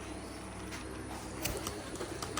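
Giribaz pigeons at a pigeon farm give soft, low cooing calls amid a busy, noisy background, with a few sharper bird sounds near the end.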